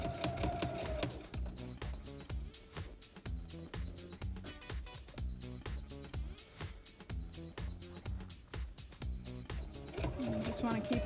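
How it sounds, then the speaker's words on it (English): A Brother CS7000i sewing machine stitching through foam for a cowboy hat, its needle punching in a fast, even mechanical rhythm that briefly slows and picks up again, close and clear with a faint voice underneath. "You can hear the needle popping through the foam."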